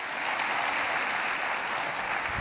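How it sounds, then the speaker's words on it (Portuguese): A congregation at a televised evangelical church service applauds continuously, a thick, even roar of clapping with no pauses and no speech. "Vamos receber o nome de Deus aplaudindo Jesus"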